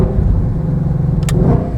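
A McLaren 765LT supercar rumbles with a steady, loud low engine note close by, with a brief sharper burst near the end and no talking.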